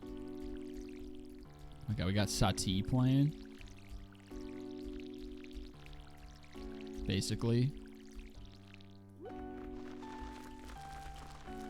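Short bursts of pouring water from a watering can on crops in Stardew Valley, two splashy pours a few seconds apart over light game music while someone talks.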